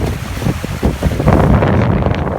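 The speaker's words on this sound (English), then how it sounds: "southwest wind's picked up" A southwest wind gusts and buffets the microphone on a fishing boat off the Llyn Peninsula, a loud, rough, continuous roar with no voices.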